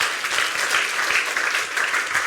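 An Armenian church congregation claps during worship, a dense, steady burst of applause from many hands filling the room.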